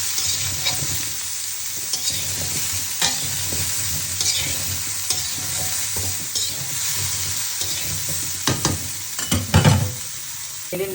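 Prawns with cauliflower and potato frying and being stirred in a pan, a steady close sizzle with repeated scraping stirs, growing busier near the end.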